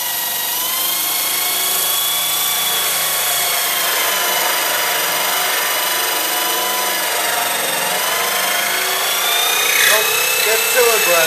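A hole saw chucked in a drill bores through wood, a loud steady high-pitched whine and grinding rasp holding for the whole stretch, with a brief scraping burst near the end.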